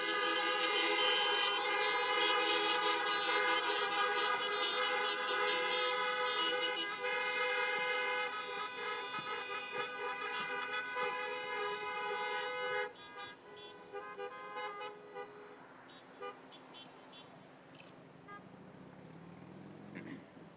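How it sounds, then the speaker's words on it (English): Many car horns honk together at an outdoor drive-in graduation ceremony, a loud sustained chorus of blaring tones that thins out into scattered shorter toots toward the end. "Let's honk for Cam"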